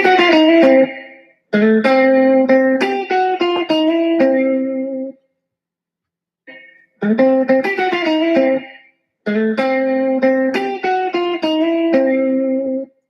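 An electric guitar played through effects picks out a phrase of sustained, ringing notes in two passes, with a clear pause between them and a brief stray note in the gap.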